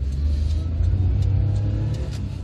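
A 2004 Perodua Kelisa 1.0 GXi accelerating, its small engine giving a steady mid-pitched drone heard close from inside the car, with no talk.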